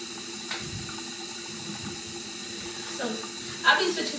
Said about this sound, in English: now I'm gonna turn my water on